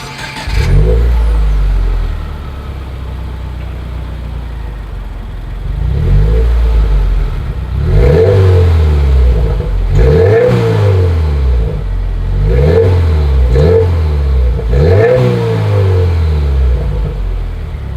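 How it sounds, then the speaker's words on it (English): A 2020 Subaru WRX idles and revs through its dual exhaust, a deep close-up rumble broken by a series of sharp throttle blips that rise and fall one after another. "here is that exhaust clip"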